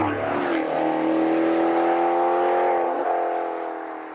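The loud exhaust of a Maserati GranCabrio Sport convertible drones steadily and close while driving, a strong sustained engine note that dips slightly near the end.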